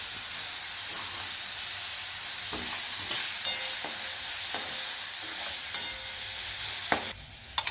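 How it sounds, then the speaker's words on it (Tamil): Diced tomato, asafoetida and Kashmiri chilli powder sauté in a hot pan for rice, giving a steady close sizzle broken by a few soft stirring scrapes and clicks near the end. "இது இப்போ நல்லா வதங்கிடுச்சு"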